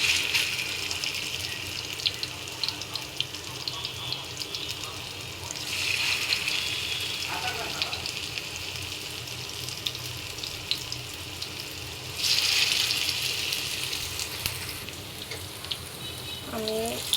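Gondho leaf fritters (bora) fry in hot oil with a continuous bubbling sizzle, broken by louder bursts as pieces are turned, close by with a faint clink near the end.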